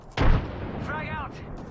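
A frag grenade detonates in a first-person shooter match, a single sharp blast that thumps loud and then decays into a rumbling tail, with a brief whistling tone rising over the aftermath.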